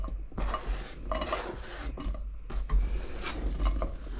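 Oil crackles and sizzles steadily in a pan of frying sausage, with occasional clinks and scrapes of a utensil against the cookware.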